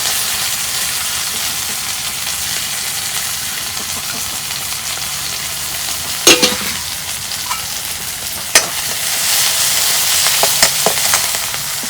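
Chopped onion and green chilli frying in oil with small taki fish for a gourd curry, a steady close sizzle with a few sharp clicks and spatula scrapes, rising slightly toward the end.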